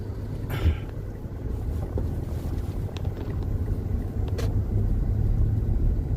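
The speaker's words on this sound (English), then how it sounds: "We're crossing the creek right now" A vehicle drives through a flooded creek in the Texas Hill Country, a steady engine rumble with rushing water and wind buffeting the microphone, a couple of sharp splashes on top.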